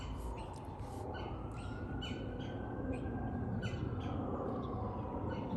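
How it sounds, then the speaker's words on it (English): Outdoor woodpecker squawks during a solar eclipse in Virginia, a series of harsh calls repeating roughly every half second against steady broadband background noise, moderately distant and alone without talk. "I'm not sure the woodpecker is squawking about this or he's upset about something else, but he's still squawking."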